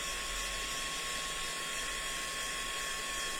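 A hair dryer blows steadily and close to dry the back of a painted Christmas bauble, a continuous broadband whoosh with a faint whine, alone without talk.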